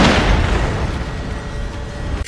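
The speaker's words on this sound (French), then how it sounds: "L'explosion bien sûr." A loud, deep explosion from the film Ghost Rider 2 (2012) booms up front, then a long rumbling roar slowly decays with crackling debris.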